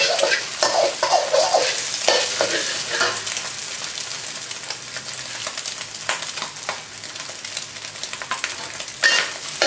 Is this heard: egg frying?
yes